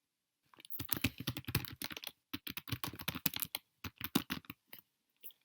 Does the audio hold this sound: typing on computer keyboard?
yes